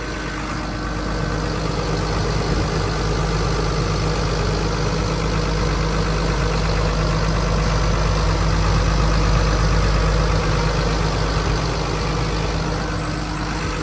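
A steady, rumbling six-cylinder turbo diesel engine of a Caterpillar 320D excavator idles continuously at close range, a low droning hum with a faint mechanical rattle and no voices.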